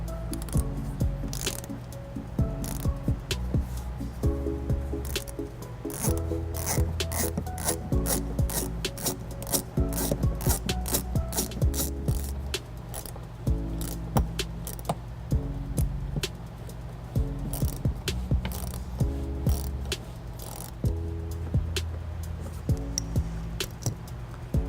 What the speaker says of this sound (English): we're just going to use an offset Phillips to loosen them and